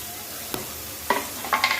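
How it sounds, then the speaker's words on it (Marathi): Chopped coriander and tomato go into spices frying for a spicy vada bhaji, followed by a few brief, soft stirring scrapes and light sizzles in quick bursts, with no talking. "आता हे छान फ्राय फ्राय झालेत मसाले आता आपण याच्यामध्ये चाप केलेली कोथिंबीर आणि टमॅटो पूर्णपणे असं छान घालून घ्यायचे"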